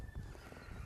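A horse works in an arena during neck-reining training, with a brief muffled stretch of movement and hoof-like thuds close by under low background noise.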